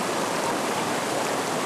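Steady broadband rush of a river flowing through the Sierra Nevada de Santa Marta, continuous and fairly loud with no break or voices.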